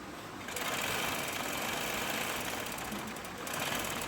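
A sewing machine runs steadily and close, stitching a seam on a palazzo, a continuous whirring hum for about three seconds that starts abruptly and barely varies.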